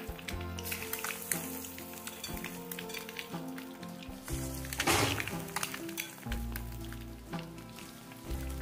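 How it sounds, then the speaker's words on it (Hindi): Balls of egg batter sizzle and crackle steadily as they fry in hot oil over a low-to-medium gas flame, with a few soft clinks and a brief louder burst of spattering midway. "थोड़ा थोड़ा बैटर लेकर हम इसकी एक बोल बनाकर तेल में डाल देंगे"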